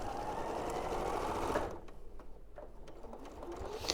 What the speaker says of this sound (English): And then you're going to sew nice and close to that frame